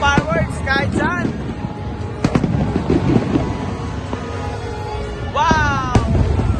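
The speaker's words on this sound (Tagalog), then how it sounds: "Dahil fireworks kahit saan." New Year's fireworks at the Mall of Asia, Philippines, bang and crackle repeatedly through a noisy crowd, with excited voices and cheering mixed in, some bursts sharp and close, others rumbling in the background.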